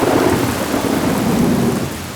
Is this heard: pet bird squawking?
no